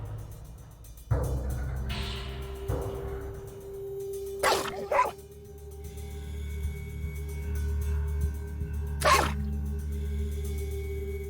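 Dogs bark in the video game Dead State, two sharp, brief barks a few seconds apart over a low game ambience with a steady hum and some rustling, moderately close.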